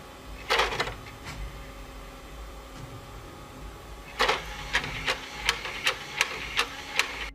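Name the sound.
old Xbox console disc tray opening and closing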